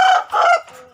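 A backyard rooster lets out a short, close crowing burst in two quick raised calls that tail off into a softer cluck, loud and alone.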